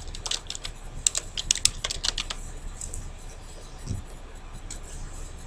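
Typing on a computer keyboard during a Microsoft Publisher lesson, a quick burst of close, crisp key clicks for about two seconds, then sparse keystrokes over a quiet room hiss.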